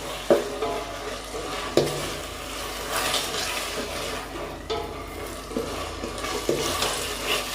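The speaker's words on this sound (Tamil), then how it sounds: "ஸோ இந்த ஸ்டேஜில் நம்ம வச்சுருந்த இந்த டொமேட்டோ போட்டுக்கலாம். ஸோ இது நல்லா வதங்கட்டும்." Tomatoes frying in hot oil for an egg gravy, a steady sizzle and crackle with a spoon scraping and stirring the pan at intervals and occasional clinks against the pot.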